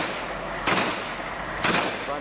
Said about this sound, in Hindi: अफगान सैनिक तालिबान के लड़ाकों पर गोलियां बरसाते दिखाई दिए।